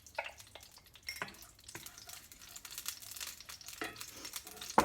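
Lard heats in a hot skillet with a faint, crackly sizzle and a few scattered pops, quiet and close, with light clicks and shuffles of cookware around it.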